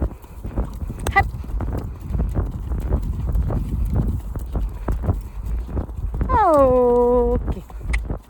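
A horse trots with steady rhythmic hoofbeats close by, a clear clip-clop running throughout. A person speaks over it and a voice gives a drawn-out call near the end.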